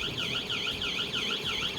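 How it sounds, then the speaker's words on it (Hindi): A smart driving-test vehicle's alarm buzzer, set off after a cone is hit, wails in a fast, regular up-and-down warble, loud and continuous, with no voices over it. "आपको सायरन जो है वो बज गया है"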